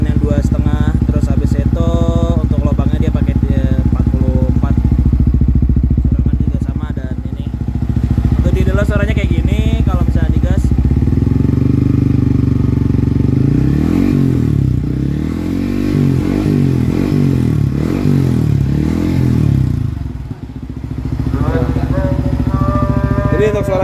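A Yamaha XSR 155 motorcycle with a loud, deep aftermarket exhaust idles with a throbbing rumble, then revs up in several surges before settling back; close and continuous.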